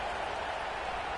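A stadium crowd in a college football video game, a steady broadband roar of many voices held at an even level throughout, with no distinct cheers or claps standing out.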